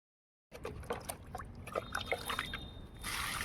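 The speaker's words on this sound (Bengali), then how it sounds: "তো জল চলে এসেছে" Tap water trickling and splashing into a container in a home as the water supply comes on, a steady close dribble with small splashes and no talk.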